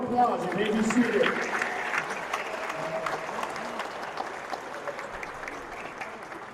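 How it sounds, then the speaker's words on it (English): Festival-goers at a dance event in Madison give a round of applause, a dense clapping wash that swells at first and then eases to a softer steady patter, with some voices mixed in. "How about a round of applause?"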